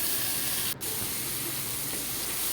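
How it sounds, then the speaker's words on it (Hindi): Tomatoes go into onions frying in a pan for dhaba-style aloo keema. A loud, steady hiss of sizzling fills the whole stretch, broken only by one brief dip. "इसके बाद हम डालने लगे हैं टमाटर।"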